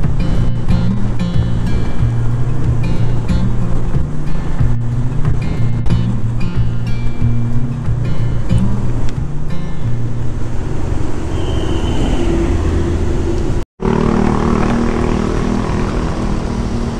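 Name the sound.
strong wind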